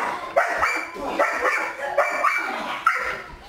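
A dog barks in excitement, a quick run of sharp yips and barks close to the microphone with short gaps between them and no talk.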